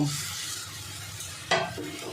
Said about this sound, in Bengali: দেখুন বন্ধুরা, ঝোলটা কিন্তু সুন্দর ফুটছে